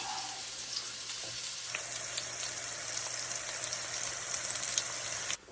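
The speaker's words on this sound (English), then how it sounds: "add those to your bacon drippings from when you cooked your bacon. You're going to cook that in those for about 5 minutes until your mushrooms are softened" Sliced mushrooms sizzle in bacon drippings in a cast iron pan, a steady bright crackling hiss lasting several seconds with a faint low hum underneath, then cutting off abruptly.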